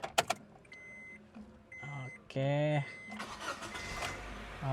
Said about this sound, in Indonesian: Ya, kita coba nyalain mobilnya aja ya.